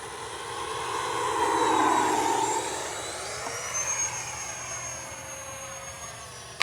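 A Freewing Ares 3D Red 8S 90mm EDF radio-controlled jet whines steadily overhead on its maiden flight, swelling louder as it passes near, then holding a continuous high ducted-fan drone with shifting pitch.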